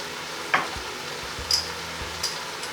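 Herbs are stirred into leek and potato soup in a pan over a soft sizzle, with a few light spoon scrapes and taps against the pan, quiet and close.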